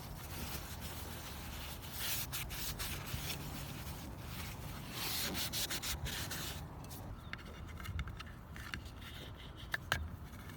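A cloth rubs back and forth to clean a minivan camper roof with acetone around a solar panel cable entry gland, a close, faint, rhythmic scrubbing with short strokes and pauses.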